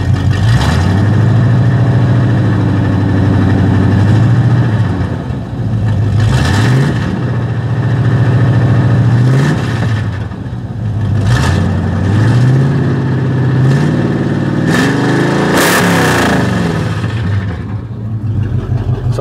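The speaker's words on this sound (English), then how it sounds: "it's loud because it's got the pipes cut off, or the exhaust cut off." A loud, raw Chevy C30 pickup engine with its exhaust cut off at the bed rumbles and revs through repeated gear shifts, each climb in pitch rising and dropping again, with no talking.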